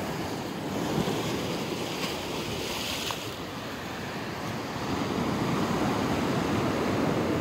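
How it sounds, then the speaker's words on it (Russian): Winter sea waves wash onto Massandra beach in Yalta, Crimea, as a steady rushing surf near a pier, with gusty wind buffeting the microphone throughout. "Море."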